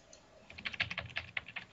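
A computer keyboard is tapped in quick, uneven bursts of keystrokes during a League of Legends game, with close, fairly quiet clicks and no talk.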